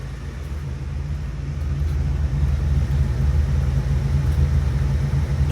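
A 1977 Oldsmobile Cutlass Supreme engine idling smoothly, a steady low rumble with an even hum that grows a little louder partway through and then holds, with no talk over it.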